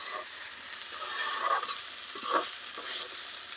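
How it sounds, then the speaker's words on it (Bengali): Okra frying with chopped onion, green chilies and salt in a pan on a clay stove, giving a soft steady sizzle with faint stirring scrapes and a couple of louder spatters, with no voices. "আমি ভেন্ডি ভাজি করতেছি"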